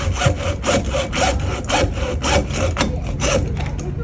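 A hand saw cuts through wood in steady back-and-forth strokes, a rhythmic rasping at close range.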